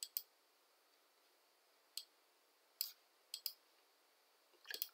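A computer mouse gives several faint, crisp clicks, single and in quick pairs, scattered irregularly over near silence, while a Photoshop file is being handled.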